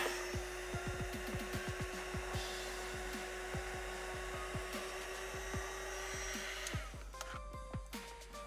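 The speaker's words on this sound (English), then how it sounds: "Fire up the heat gun again." A heat gun blows hot air over heat-shrink tubing on a repaired USB connector, giving a steady airy whoosh with repeated clicks and taps over it and a change in tone near the end.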